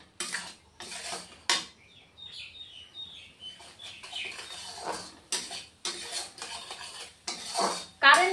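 A spatula scrapes and clatters in a pan while Bengali rui fish curry masala is sautéed. The strokes come in loud irregular bursts with quieter gaps between them.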